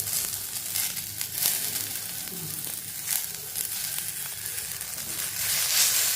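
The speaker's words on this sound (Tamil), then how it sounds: "இதை நல்லா வதக்கிக்கிடுவோம்." Chopped onions and coriander leaves sauté in a hot pan, giving a continuous dense sizzle with occasional crackles and stirring scrapes, close and steady throughout, with no voices.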